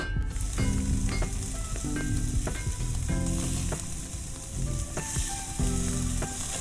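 Food sizzling steadily while being heated in the video game Love and Deepspace, a dense continuous frying hiss with soft background music tones, loud and unbroken.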